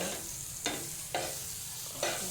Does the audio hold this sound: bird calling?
no